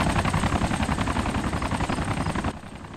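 Helicopters in a multiplayer war video game give off a loud, continuous rotor chop with a pulsing beat, sustained throughout and dropping slightly in level near the end, with no talk.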